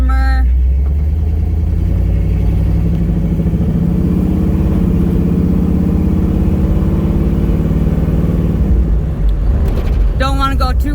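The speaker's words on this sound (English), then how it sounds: "I am in a 78 Trans Am test driving for another customer" A 1978 Pontiac Trans Am on a test drive hums with a steady, low engine drone heard from inside the car, holding an even pitch throughout, with someone talking over it.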